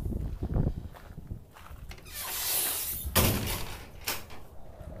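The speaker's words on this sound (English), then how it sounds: "you can open up this door, and you can open up this door" Door on a 2004 Ford F350 truck being opened, giving a broad rushing latch-and-swing noise with a sharp clunk midway, close by, followed by another softer knock.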